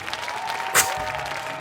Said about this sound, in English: And the whole square erupts in laughter and cheering.